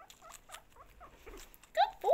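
A foster guinea pig squeaks and chatters during a nail trim: soft scattered patter followed by two louder high squeals near the end, close to the microphone.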